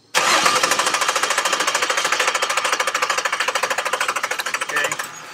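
A Nissan engine fitted with a new distributor and coil starts up abruptly and settles into a loud, close, rapid rhythmic idle with a clattery, tapping pulse that continues steadily to the end.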